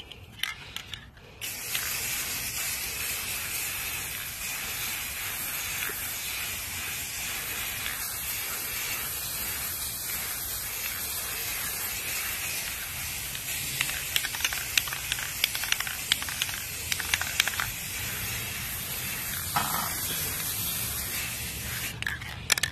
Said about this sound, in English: It's a gold spray paint, so screenshot this. And I'm just gonna spray all of this all the way up to the top as much as I can.